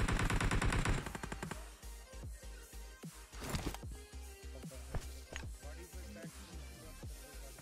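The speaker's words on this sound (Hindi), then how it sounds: "और ये बंदे किसी के ऊपर फायरिंग कर रहे थे" Gunfire in the video game PUBG Mobile, including a DP-28 light machine gun, starting with a dense automatic burst, then scattered sharp shots and cracks with echoing tails, moderately loud and with no talk.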